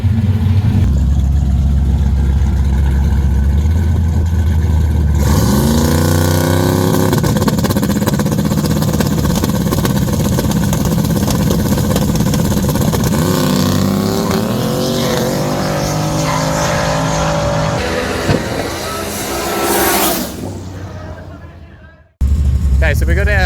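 Holden HJ and UZ Toronto drag cars at a no-prep drag racing event roar loudly and up close, engines revving hard then sweeping through rising gears before cutting off abruptly, with voices underneath.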